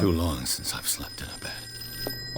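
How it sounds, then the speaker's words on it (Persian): A telephone rings in the Call of Cthulhu game with short bright bursts, while someone speaks over the start of the ringing. "بعد اون نگاه میکردم تلفن زنگ بخوره."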